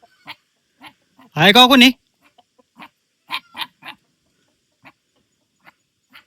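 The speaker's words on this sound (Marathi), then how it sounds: "कोंबड्यांचा आवाज आहे, कुत्र्यांचा आवाज आहे." Chickens in a small, remote mountain village let out one loud, drawn-out call, followed by scattered short clucks; a person calls out briefly.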